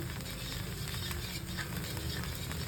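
A neer dosa cooks in an oil-free pan just after being flipped, giving a soft continuous sizzle with faint patter, close and steady.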